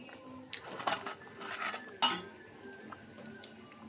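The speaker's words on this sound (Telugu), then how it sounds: "మూత తీసి చూద్దాము." A metal lid comes off a pot of fish curry (chepala pulusu) on the stove with a few sharp clanks and clinks, one bright metallic knock near the end, over a quiet background.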